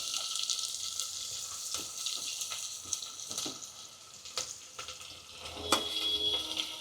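Chopped onion hits hot oil already seasoned with curry leaves and asafoetida, giving a steady, faint sizzle and frying hiss broken by light clinks and scrapes of stirring in the pan.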